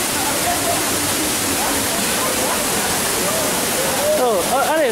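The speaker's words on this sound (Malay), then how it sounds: "Pemirsa, kami sudah berada di air terjun Trumon." Rushing water at the Trumon waterfall, a loud, constant broadband roar heard up close that stays steady throughout, with a faint bird or squeak-like chirp and slight shifts near the end.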